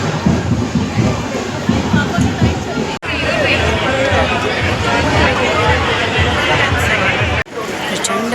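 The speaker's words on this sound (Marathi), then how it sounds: "प्रचंड गर्दी आहे, खूप गर्दी आहे." A dense crowd at a Ganpati procession, loud continuous hubbub of many overlapping voices close around, steady chatter with brief cuts, no single voice standing out.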